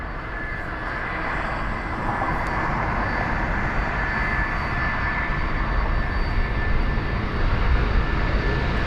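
A British Airways Airbus A380 at London Heathrow gives a steady, loud jet engine roar that builds slightly and holds throughout, broad and rumbling with no talk.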